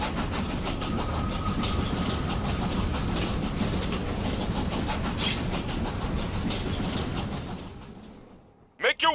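A moving train in the video game Killer is Dead gives a steady, loud rumbling clatter with rhythmic clacks that continues for several seconds, then cuts off abruptly near the end.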